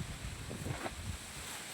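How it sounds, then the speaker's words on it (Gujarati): Strong wind with rain and lightning roars steadily and buffets the microphone, a constant rushing gust with no voices. "જો પવન જોવો ખાલી તમે, ધોધમાર આવે છે"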